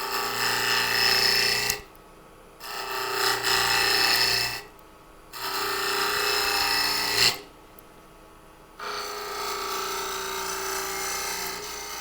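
A wooden drawer pull being rasped and filed round by hand, aimed at about 1.25 inches across, in bursts of steady scraping strokes broken by short pauses.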